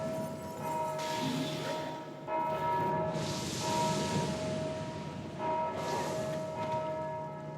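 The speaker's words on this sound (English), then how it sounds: "How did that hit the bell?" A bell in the Dark Souls 2 video game rings repeatedly, sounding several ringing tones with long sustained resonance that overlap and decay, moderately loud, with no talk.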